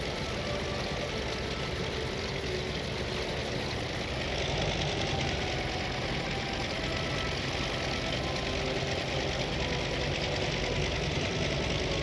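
An aircraft engine runs at reduced throttle during a carrier landing approach in a naval air combat game, a steady, dense drone that grows slightly louder and fuller about a third of the way in.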